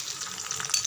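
Curry leaves hit hot oil and sizzle loudly in a short, dense burst of crackling frying, close and continuous with no talking.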